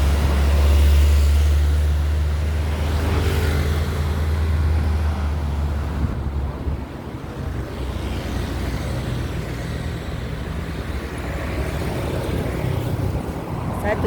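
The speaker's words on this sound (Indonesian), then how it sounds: "Ada kendaraan lewat" A motor vehicle passes along a quiet road where a street coffee vendor works, its low engine rumble loud at first and then easing into steady road noise.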